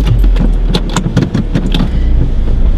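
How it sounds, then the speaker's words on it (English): Car engine cranking and starting up, a loud continuous low rumble with rhythmic pulses close by, fading to a steady idle. "As soon as we start the car up,"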